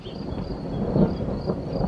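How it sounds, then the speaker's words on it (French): Thunder from a thunderstorm rolls as a low, rumbling swell, building toward a heavier peak midway then continuing more softly, with a faint background hiss and no one talking. "Mais j'aime bien moi l'orage."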